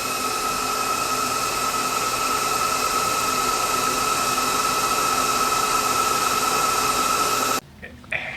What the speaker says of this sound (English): that hum or whine that you heard was just the whine of a lot of network equipment going